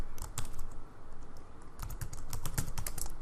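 Close typing on a computer keyboard, with rapid uneven key clicks in short runs over a low steady room hum.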